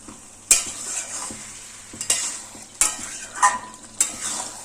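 Marinated chicken is stirred in a pan with a little water added. Five distinct scraping stirring strokes stand out over a low background sizzle, each a short rasp of the spatula against the pan.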